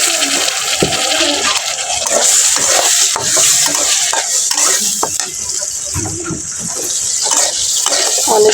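Food gets washed under a running tap, a loud steady rush of water mixed with clattering of dishes and utensils close by throughout.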